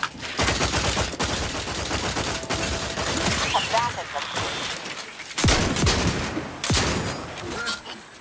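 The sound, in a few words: gunfire in the video game The Outer Worlds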